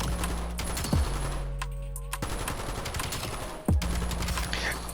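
Rapid automatic bursts from an MK.78 light machine gun in Black Ops 7, sustained hip-fire rattle broken by short pauses and sharp impact thumps, loud and close with no talking.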